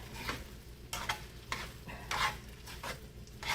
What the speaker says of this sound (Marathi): आणि मग हे छान असं तुम्ही ढवळून घ्यायचं